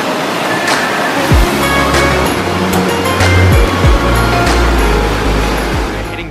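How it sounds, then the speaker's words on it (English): Water from a stream runs down into a pool at a waterfall, giving a steady broad rush with close splashing and occasional louder surges throughout, alone with no talk. "it's kind of like just a stream running down into it."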